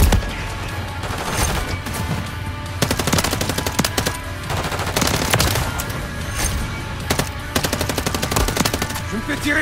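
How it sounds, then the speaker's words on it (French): Automatic gunfire in Modern Warfare 3: loud, sustained, rapid bursts of machine-gun fire with brief pauses, some crashes mixed in, and continuous shooting throughout. "Je me fais tirer dessus."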